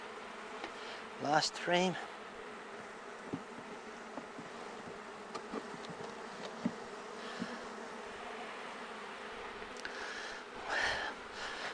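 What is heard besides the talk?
stingless bees buzzing around hive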